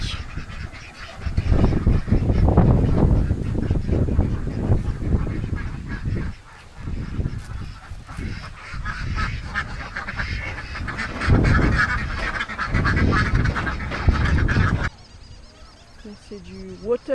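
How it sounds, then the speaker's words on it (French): A noisy flock of many large ducks quack and honk loudly near Lake Tondano, Sulawesi, calls overlapping continuously with some talking mixed in before the sound drops off near the end. "Plein de canards, des gros canards."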